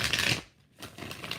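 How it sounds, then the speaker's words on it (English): Tarot cards being shuffled, two quick riffling bursts separated by a brief pause, close and alone. "Six shuffles for Lotus Rose."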